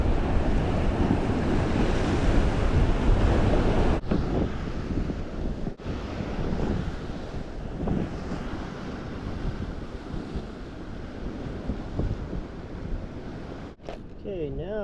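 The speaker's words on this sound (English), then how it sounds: "A little bit of wind this morning." Wind blowing by the ocean during a fishing outing, loud gusting rumble buffeting the microphone over surf, with a few brief bumps.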